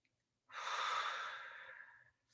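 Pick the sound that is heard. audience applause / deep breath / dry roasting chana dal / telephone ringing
deep breath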